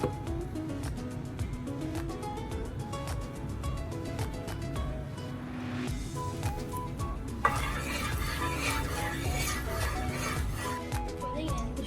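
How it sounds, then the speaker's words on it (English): Extra virgin cooking oil in a preheated pan gives a soft steady sizzle, with stirring clinks and pan scrapes on top and a brief bright hiss partway through. "First, we will preheat the pan, and then we will add the cooking oil."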